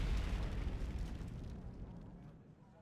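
An artillery explosion in the Wargame: Red Dragon video game, a deep rumbling boom that rolls on and slowly fades over a few seconds.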